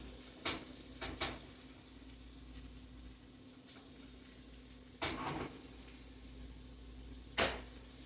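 Chicken and shrimp fajitas sizzle softly in a hot pan, broken by several sharp scraping stirs spaced a few seconds apart, close up with no voices.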